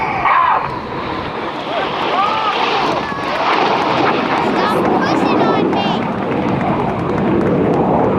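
Red Arrows RAF jets fly an aerobatic airshow display at AirPower Over Hampton Roads, the synchro pair returning for the carousel; a broad, loud jet roar sweeps steadily throughout with wind buffeting, while an announcer talks over it.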